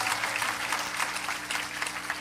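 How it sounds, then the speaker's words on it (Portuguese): Church audience applause welcoming first-time visitors, a steady, fairly loud wash of many hands clapping with a low hum underneath. "Uma salva de palmas para essas pessoas que estão aqui pela primeira vez."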